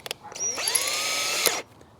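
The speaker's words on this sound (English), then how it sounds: "you're going to drill out these 4 indents" Power drill with a 5/16 bit boring into a plastic Jackson kayak hull: one short burst of rising whine that holds steady for about a second, then stops, close and alone.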